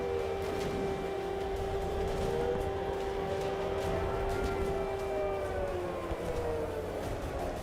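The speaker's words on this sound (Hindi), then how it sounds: "इन हमलों के बाद कई इलाकों में एयर रेड सायरन बजे" Air raid siren sounding over a city during an Iran–Israel missile attack, a long sustained wailing tone that slowly bends downward near the end, steady and loud over a dense rumbling background with no voices.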